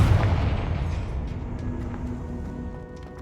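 A Confringo blasting spell explodes in Hogwarts Legacy, a deep booming blast at the start that rumbles and slowly fades out.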